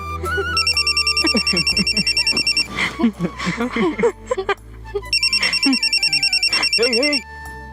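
A mobile phone rings with a bright repeating electronic ringtone in two bursts, indoors in a TV serial scene, while people talk over it between the rings.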